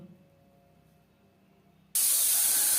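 A pressure cooker of soaked pea dal with little water bursts into a loud, sharp steam whistle after a near-silent stretch, hissing steadily to the end.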